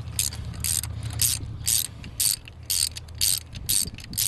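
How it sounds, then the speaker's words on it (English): A ratchet with a half-inch extension loosening spark plugs, giving a rapid series of about ten short metallic clicking bursts in a steady rhythm, close up and clear. "go ahead and put your half inch on your extension and loosen them until they come out."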